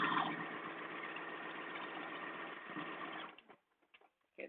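A sewing machine stitching French terry knit fabric runs in a steady, even whir for about three seconds, then stops, followed by a few faint clicks and handling noises.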